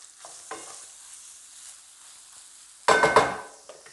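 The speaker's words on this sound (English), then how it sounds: "Give it a good mix and allow the green chilies to cook for 1 minute." Mince and green chilies frying in a pan while being stirred: a scraping stir near the start, a mostly quiet stretch with a faint background, then a loud burst of sizzling and stirring near the end, with no talk.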